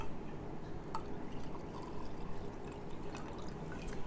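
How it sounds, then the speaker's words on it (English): About a quarter cup of water is poured into a bowl for making tahini sauce, a soft continuous liquid splash with small drips, faint and close. "I'm going to add about a 1/4 cup of water"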